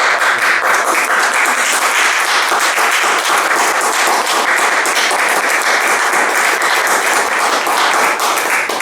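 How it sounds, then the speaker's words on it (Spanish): A church congregation claps loudly and continuously, a dense, even roar of applause filling the room with no pauses. "Aplauso al Señor."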